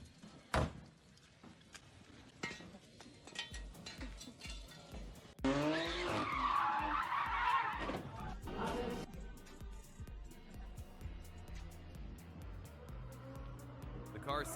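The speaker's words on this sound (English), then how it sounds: "The car suddenly lost control and collided with the barrier." A car loses control on a slippery road, its tires skidding and squealing before it strikes a barrier, with a loud, dense burst mid-clip that then fades under ongoing talk.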